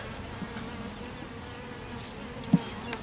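Honey bees swarm around an open backyard hive, a steady close buzzing with faint wingbeat flutter and a brief louder pass near the ear.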